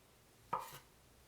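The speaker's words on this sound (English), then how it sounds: "Cut 300 grams of fish fillet into thick slices." A knife slices through a fish fillet into thick slices on a cutting board, heard as a single soft cut with a brief knock against the board, quiet and close, followed by stillness.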